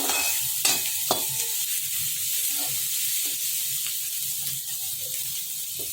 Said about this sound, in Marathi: थोडंसं आपण हे परतून घेणार आहोत तेलामध्ये